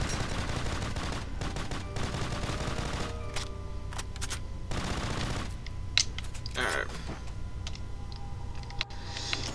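Rapid gunfire from an overpowered weapon in Call of Duty World at War custom zombies on the Hotel map, dense bursts with brief pauses, loud and continuous over game background noise.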